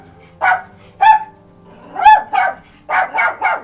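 A female dog barks in short, sharp bursts, about six or seven barks in uneven clusters, close and loud with quiet gaps between them.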